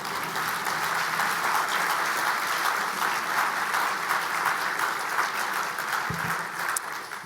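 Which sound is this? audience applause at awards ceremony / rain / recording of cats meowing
audience applause at awards ceremony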